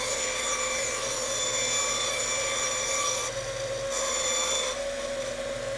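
A band saw with a circle-cutting jig cuts through wood, producing a continuous, close rasping whine with a steady blade hum, briefly easing and resuming midway without any voices.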